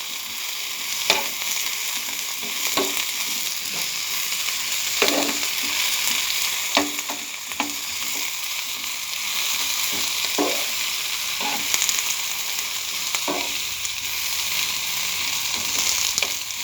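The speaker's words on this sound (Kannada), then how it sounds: "ನೋಡಿ ಫ್ರೆಂಡ್ಸ್, ಎಲ್ಲ ಎಣ್ಣೆ ಒಳಗೆ ಹೇಗೆ ಫ್ರೈ ಆಗ್ತಿದೆ ಅಂತ." Tomato chutney ingredients fry in hot oil in a pan with a constant loud sizzle, broken by repeated clicks and scrapes of a spoon stirring every second or two.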